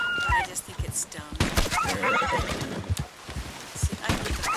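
A horse in Red Dead Online whinnies loudly near the start, followed by clopping hooves and rustling game sounds, while someone talks over it throughout.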